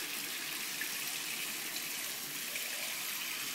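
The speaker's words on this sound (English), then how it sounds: "Turn on the water. And get your cup. Put some water in it." Water runs from a bathroom tap into a cup, a steady hissing gush that stays constant throughout with no voices heard.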